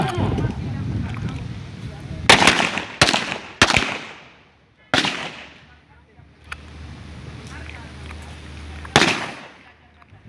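Sharp gunshots at a police shooting practice in Aceh, several loud cracks in irregular bursts with echoing tails, separated by quieter gaps with wind noise.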